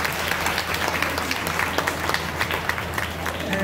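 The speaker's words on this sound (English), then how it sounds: "let's give them a big hand for the temple." An audience at a music event honoring a temple entrepreneur applauds steadily, dense clapping from a crowd with scattered voices underneath.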